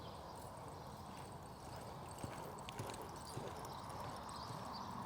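Hoofbeats of a young barrel horse loping steadily in an arena, a soft rhythmic clip-clop under a constant background hiss, with a few sharper footfalls standing out midway.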